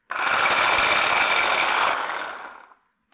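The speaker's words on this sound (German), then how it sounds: "Ich nehme jetzt hier eine knappe Handvoll und mahle die erstmal." A handful of cashew nuts is ground in a kitchen grinder for a chicken korma: one loud, close, continuous grinding whir of about two and a half seconds that then fades out, with no voices.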